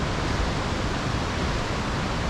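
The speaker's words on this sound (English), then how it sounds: "You can hear the waves crashing." Ocean waves crash onto a beach at Nusa Penida, a steady, loud, broadband wash of surf with no voices.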